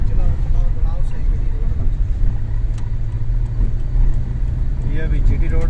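Toyota Hiace Grand Cabin van driving on a highway in Pakistan, a steady low engine and road rumble from inside the cabin, with people talking over it throughout.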